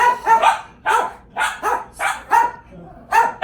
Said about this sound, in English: And now the dogs are barking because they want to go out in the garden too.